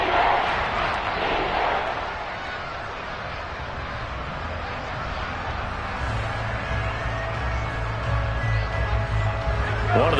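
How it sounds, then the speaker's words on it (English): A football stadium crowd roars steadily ahead of a big third down in a division playoff game, a dense, sustained wall of cheering with a commentator talking over it. "the crowd getting into it as we come up on a big third down"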